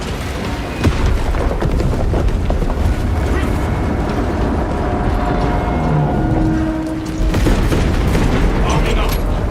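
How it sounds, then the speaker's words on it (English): Demolition charges detonating in Warhammer 40K: Space Marine 2, a loud booming blast with rumbling debris that swells, drops away briefly and then roars back, mixed with battle noise. "Detonate the charges now."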